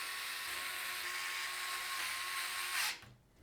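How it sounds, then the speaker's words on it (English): A small electric screwdriver drives short radiator screws into the top of a Valkyrie A360 PC case, a steady high whirring motor that winds down and stops near the end, close and without talk. "we'll secure things into place at the top using 12 short radiator screws"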